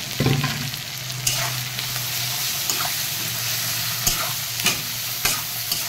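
Ginger and pepper spice paste frying for a fish curry, a steady sizzle in the pan with occasional sharp scrapes and knocks of a spoon stirring.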